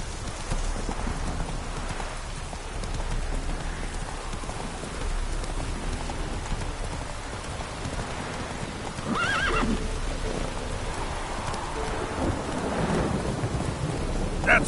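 Roach, a horse in The Witcher 3, moves through a rainstorm with steady hoofbeats, a whinny and rolling thunder over constant rain; no one speaks.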